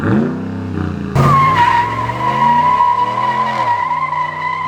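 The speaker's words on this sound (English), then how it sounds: "Behind me is the Ram 1500, and it has a V8 again." A Ram 1500 pickup's V8 engine roars and revs loudly up close, its pitch climbing and then holding steady in a sustained, throaty growl.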